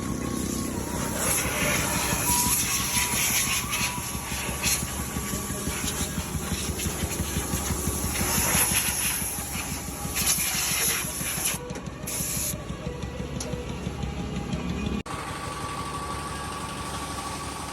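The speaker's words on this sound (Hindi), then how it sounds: "ये डीजल वाला स्प्रे मार रहे हैं ट्रैक्टर को।" A diesel spray hisses continuously onto a tractor at a car wash, a loud, steady, steam-like jet with a faint mechanical hum beneath that cuts off abruptly near the end, leaving a quieter background.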